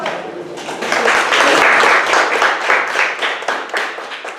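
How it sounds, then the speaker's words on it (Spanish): An audience at a talk on astrobiology applauds, a dense, steady patter of many hands clapping that swells in the middle and then thins out, with no speech over it. "Les damos un aplauso."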